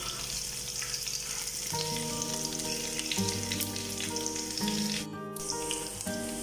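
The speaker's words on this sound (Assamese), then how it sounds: "এইখিনি এইদৰে অলপ টাইম ভাজি ল'ব লাগিব যেতিয়ালৈকে পিঁয়াজখিনি ভাজা যায়" Onions frying in a pan make a steady, dense sizzle and crackle throughout, close and continuous, with a low tonal hum running underneath.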